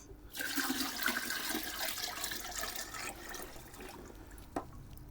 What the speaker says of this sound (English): I'll just top this bucket up here with a little bit of extra